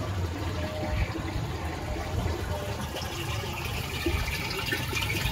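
Water running into a container in a bathroom, a steady rushing, gurgling flow that continues evenly throughout at close range.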